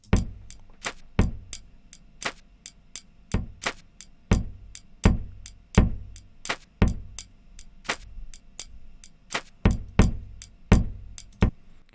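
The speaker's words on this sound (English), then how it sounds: "Then I created a beat sample." A lo-fi hip-hop beat built from city field-recording samples, with a steady loop of sharp percussive ticks and clanks over a soft low thump, repeating evenly throughout with no voices.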